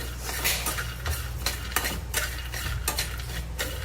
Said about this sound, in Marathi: त्यामध्ये आपण जे फुटाणे जे घेतले होते ते घालून घेऊया आणि भाजून घेऊया